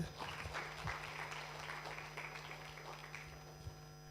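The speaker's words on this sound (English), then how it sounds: "A round of applause, please." Audience applause at a business event for International Women's Day, a sustained wave of clapping from a crowd in a hall, fairly quiet and steady throughout.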